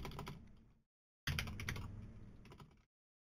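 Quick typing on a computer keyboard comes in two short, close bursts of clicking keys with a brief silent gap between them.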